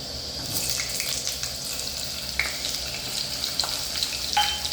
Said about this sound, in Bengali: তেল গরম হয়ে গেছে, এবার আমরা আলুটা দিয়ে দেবো